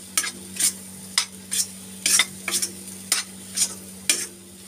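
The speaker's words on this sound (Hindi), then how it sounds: "इसको हम मसाले में अच्छी तरह से 2 मिनट के लिए भूनेंगे।" Potato stuffing masala for stuffed capsicum being stirred and roasted in a pan, with a low steady sizzle and about ten sharp scraping strokes of the spoon at a loose, uneven rhythm, close and fairly loud.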